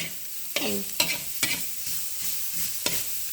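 Long beans and pork stir-fry in hot pork fat with a constant loud sizzle. A spatula scrapes the pan in a few regular strokes, and no voices are heard.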